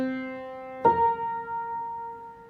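A sustained tone, then a second note struck at once forming an augmented sixth interval; both ring together with a bright attack and slowly fade, clean and solo with no talk.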